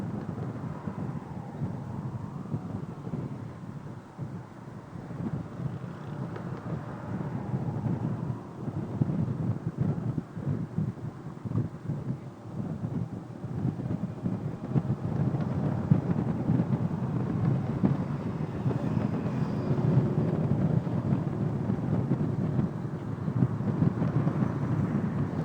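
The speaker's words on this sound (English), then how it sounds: "we're standing on a bridge that's about 65 feet in the air in 12-mile-an-hour winds" Twelve-mile-an-hour wind gusting on a bridge about 65 feet up: a steady, low rumbling buffet against the microphone, continuous and swelling slightly at times, with no voices.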